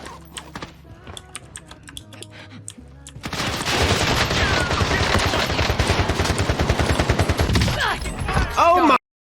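Rapid automatic gunfire in Call of Duty Warzone erupts after a quieter opening of scattered clicks and shots, then stays loud and dense with overlapping bursts and explosions until it cuts off abruptly.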